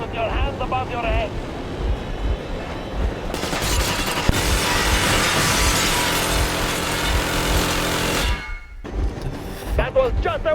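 Loud burst of warning gunfire in the Metro Exodus video game: a sustained roaring volley lasting several seconds over wind and water noise, then a sudden cutoff, with a voice speaking before and after.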